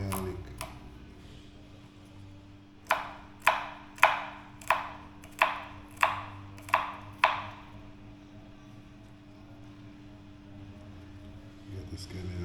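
A knife chops garlic and scallion in Jamaican country home cooking, eight sharp, evenly spaced strikes on a board in a quick run, then stopping, over a low steady background hum.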